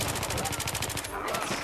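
Rapid automatic fire from an F2000 rifle in Battlefield 3, a dense, evenly spaced stream of loud, close shots that pauses briefly and then resumes.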